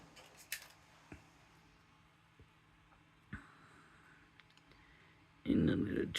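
Scissors fussy-cutting small paper critters for a card: sparse, quiet snips and clicks spread out over a few seconds, then a louder burst of rustling at the end.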